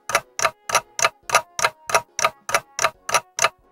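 A clock ticks in an even, close rhythm, about a dozen crisp ticks spaced evenly with nothing else around them.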